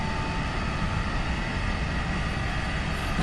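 An engine revved to about 3,000 RPM during a test run, a loud, steady, even drone that holds constant throughout with no voices.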